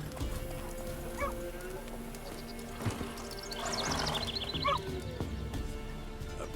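Hooves clop at a steady pace in The Witcher 3, with a whinny partway through, heard at moderate volume over a low rumble of ambience.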